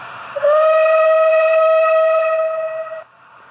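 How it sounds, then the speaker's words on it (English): A long steam whistle with echo from a Hornby BR blue Merchant Navy OO gauge model locomotive sounds one loud, sustained, clear tone of about two and a half seconds, then cuts off sharply, leaving a low hiss. "Function 17 is a long whistle with echo."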